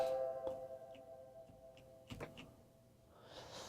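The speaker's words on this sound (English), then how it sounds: "But then we have this layer bell," A soft, layered bell tone rings with steady sustained partials, punctuated by a few faint clicks and ticks, fading into a hiss near the end.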